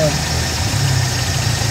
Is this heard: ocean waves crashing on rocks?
no